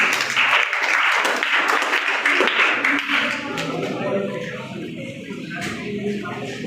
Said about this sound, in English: Give a huge round of applause for Arsi.